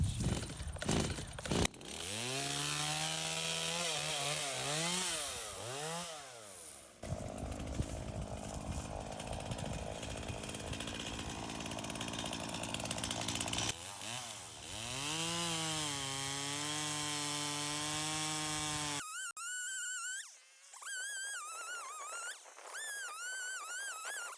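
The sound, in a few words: saw cutting firewood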